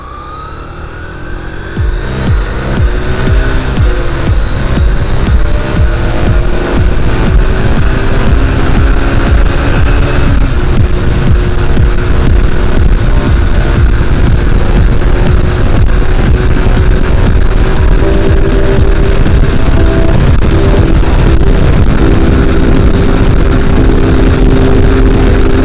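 An 11-year-old Yamaha Libero G5 motorcycle held at top speed, its engine droning loud and steady with a rising whine and constant wind rush, no voices.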